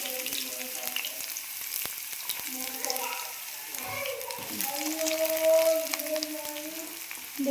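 Chopped onion sizzles in hot coconut oil in a pan, a steady close crackling fry with occasional stirring scrapes while someone talks over it.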